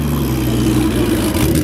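A Porsche Kremer 911 race car at the 2013 Amelia Island Concours d'Elegance holds a loud, steady, low engine rumble up close, with no voices over it.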